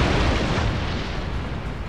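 Heavy naval cannon fire in a Shogun 2 Total War: Fall of the Samurai sea battle, with explosive rounds landing as a dense, sustained rumble of overlapping booms that stays loud and roughly steady throughout.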